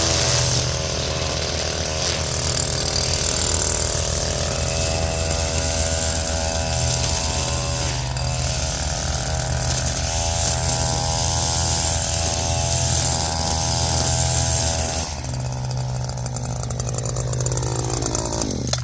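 A riding lawn mower cuts grass, its engine droning loudly and steadily with a whirring deck, then the pitch shifts and drops toward the end as it turns a corner.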